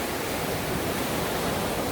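Ocean waves on a beach in Punta Cana, a steady broad wash of surf roaring continuously and fairly close, with no voices.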